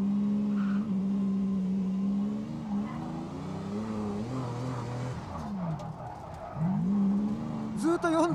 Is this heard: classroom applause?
no